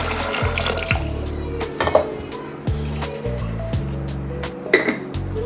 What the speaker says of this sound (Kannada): ಸ್ವಲ್ಪ ನೀರು ಹಾಕ್ಬಿಟ್ಟು